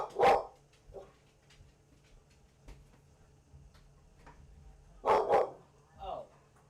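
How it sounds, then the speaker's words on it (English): Dogs barking indoors in short, fairly loud bursts, a pair at the start and another cluster near the end, with quiet gaps and faint ticking in between. "Dogs are barking again."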